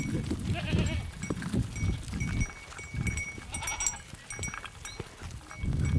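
Goats bleat repeatedly outdoors, several animals calling close by in overlapping bursts over a steady background of ambient noise.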